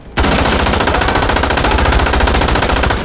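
In the video game Insurgency: Sandstorm, a weapon fires full-auto in one loud, rapid, unbroken burst of about three seconds, close and dominant.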